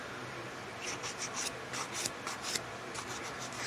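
A nail file lightly buffs dipping powder nails in quick, soft scratchy strokes, faint and close, in short bursts.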